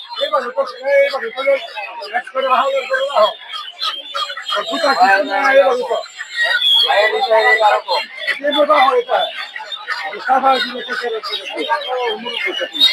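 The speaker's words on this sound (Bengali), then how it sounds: "যেটা দেখতে পাচ্ছেন একটু বড় সাইজের ফার্মি মুরগি গুলো" Chickens cluck and squawk close by amid busy chatter at a poultry market, with people talking almost continuously over the birds.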